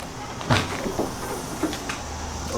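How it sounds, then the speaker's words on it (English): Hood of a Volkswagen Golf R being popped open: a few soft mechanical clunks and latch clicks close by, over a quiet background hiss. "So I'm gonna actually pop the hood."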